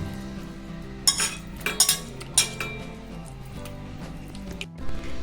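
Quail pieces are turned in a thick masala paste for a quail biryani and fry, giving a few scattered clinks of a spoon against the bowl and soft wet squishing between quieter stretches.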